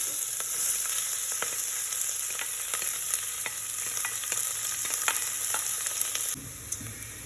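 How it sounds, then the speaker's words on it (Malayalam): Chopped onions for chicken biryani fry and get stirred in a pressure cooker, a constant close hiss of sizzling oil with soft, regular scraping strokes throughout. "സവാള നല്ലതായിട്ട് ഇപ്പോൾ നല്ലതായിട്ട് ഇളക്കി കൊടുക്കുക"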